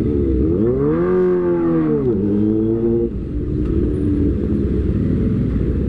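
Steady engine rumble of nearby motorbikes and vehicles in a Sunday traffic jam, with a rising and falling rev from one machine before the idling drone settles in, loud and close.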